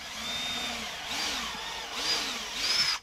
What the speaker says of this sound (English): also I'm going to pre-drill about three quarters of an inch down from the top